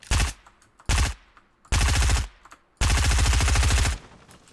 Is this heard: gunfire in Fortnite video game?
yes